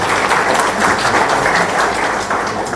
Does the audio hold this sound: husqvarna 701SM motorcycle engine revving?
no